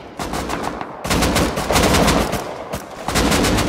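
Loud, rapid bursts of automatic gunfire from an online shooter game, with an MP5 among the weapons, rattling almost continuously with only brief gaps between volleys.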